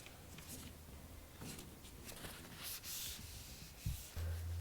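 Oil is rubbed by hand onto the handle of a finished titanium framing hammer, giving soft, faint scrubbing and rubbing strokes in uneven bursts with a few light knocks.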